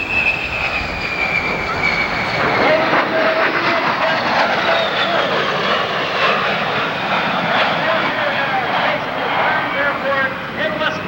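An A-10 Warthog's fan-jet engines, each rated at 9,000 pounds of thrust, roar loudly with a high whine as the jet flies at the 1990 Westover AFB airshow, while an announcer talks over it.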